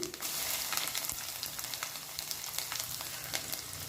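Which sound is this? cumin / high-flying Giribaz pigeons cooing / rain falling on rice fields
cumin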